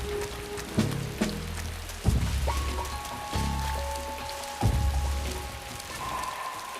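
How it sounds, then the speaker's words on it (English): Steady rainfall pours down in a jungle in Metal Gear Solid: Snake Eater 3D, a constant wash of hissing drops broken by occasional thumps and a sustained tonal hum. "Yeah, see, it started to rain. Dynamic weather,"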